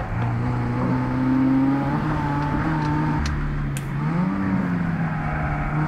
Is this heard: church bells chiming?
no